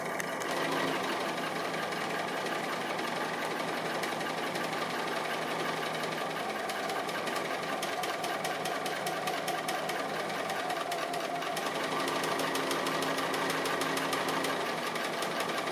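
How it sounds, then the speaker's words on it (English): A sewing machine stitches an appliqué wheel in one long unbroken run, its needle hammering at a fast steady rhythm with a motor whir beneath, close and loud throughout. "I'll have to do the wheel centres separately"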